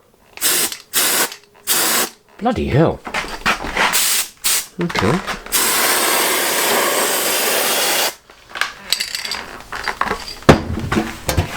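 A loud, steady high-pressure aerosol spray can hiss runs for about three seconds while refurbishing a Land Rover radiator, set between short bursts of speech and rustling handling noises.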